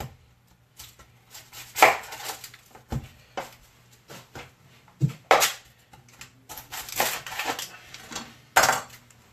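A knife chops an onion into cubes on a cutting board, with sharp, uneven knocks, some louder and closer together, over a quiet background with no talking.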